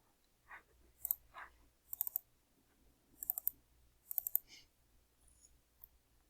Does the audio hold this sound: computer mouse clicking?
yes